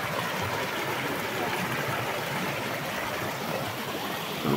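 Tabocas river running near Cachoeira do Nestor in Pernambuco, a steady broadband rush of flowing water that holds even and unbroken throughout, with no talk over it.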